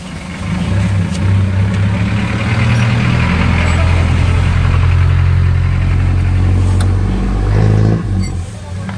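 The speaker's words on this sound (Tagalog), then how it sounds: "Pakita ko sa inyo yung laro ng motor." A motorcycle engine runs close by, a steady low droning idle that swells briefly near the end as if revved, with faint voices in the background.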